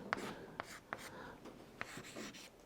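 Pen or chalk writing during a Hindi-medium chemistry class on nucleic acids, heard as a few sharp, separate scratchy strokes at close range in a quiet room, with faint background hiss and no talk over them.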